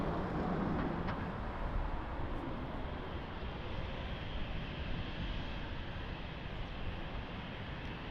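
An airplane takes off at Lisbon Airport, a steady broadband engine roar that holds loud and constant throughout with no talk over it.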